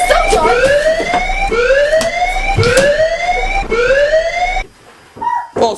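A loud wailing alarm siren sweeps upward in repeated rising cycles, about five in a row, then cuts off abruptly into near silence before a brief final burst.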